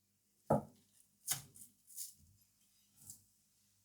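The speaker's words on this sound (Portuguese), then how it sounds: "Cortar aqui numa fatia de mais ou menos meio centímetro." A knife cuts slices about half a centimetre thick from canned luncheon meat on a board: four or five separate close thuds and cuts, spaced apart, with quiet gaps between.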